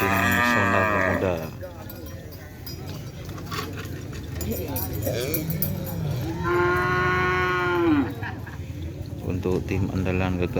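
Racing bulls at a Karapan Sapi field moo in long, loud calls, one near the start and a deeper drawn-out one later, over outdoor crowd murmur and people talking nearby.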